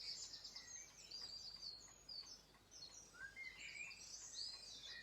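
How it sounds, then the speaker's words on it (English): Songbirds chirp and warble continuously in a garden-like background setting, with bright overlapping calls from several directions, moderately faint and with no voices. "the reason why I have the background bird music is so you know if you can hear the birds"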